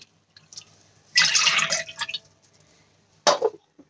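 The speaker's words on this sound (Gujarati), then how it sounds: "તો એ જ વાટકીના માપથી અહીંયા હું 2 વાટકી પાણી લઈ લઉં છું" Water from a bowl poured into a pot, two bowlfuls for salted peanuts, comes as two short splashing bursts, a longer pour followed by a brief second splash, close and fairly quiet, with no talking.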